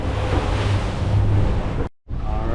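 Rushing ocean waves and buffeting wind roar loudly around a boat crossing rough, whitecapped water into the wind from Key Largo toward Bimini, with heavy wind noise on the microphone and a sudden brief dropout near the end.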